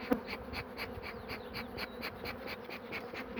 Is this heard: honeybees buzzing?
yes